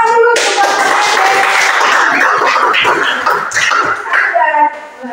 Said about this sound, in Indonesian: Tepuk tangan dulu kepada